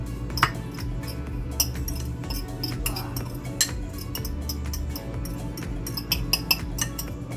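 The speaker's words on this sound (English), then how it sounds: "Now we're going to mix to combine the ingredients" Garlic and other ingredients are mixed in a bowl with a utensil, giving repeated light clinks and scrapes against the side, steady and close, over a low background hum.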